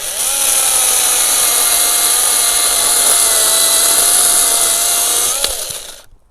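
A WORX WG324E handheld 20V cordless chainsaw cuts through a sizeable tree branch, its high steady whine running loud and close for about five seconds before stopping abruptly.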